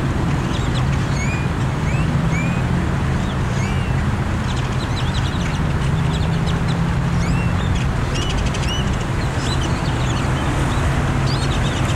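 A large flock of ducks and other birds chattering on the water, with many overlapping quacks and calls over a steady loud rumble of boat engine and water.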